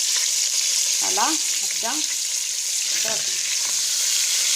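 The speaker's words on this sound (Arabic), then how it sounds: "نقليوهم هكذا مع بعض" Spices fry in a pan with a steady, bright sizzle for a tagine with olives, the hiss continuous and close while a voice speaks briefly over it.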